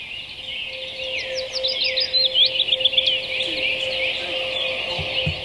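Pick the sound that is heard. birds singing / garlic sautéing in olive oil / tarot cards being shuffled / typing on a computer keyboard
birds singing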